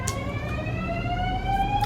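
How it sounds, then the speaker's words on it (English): A fire alarm sounds during testing: a steady electronic tone that slowly rises in pitch, with a few short sharp bursts, against a constant indoor background hum. "They're doing fire alarm testing and I knew they was gonna go off."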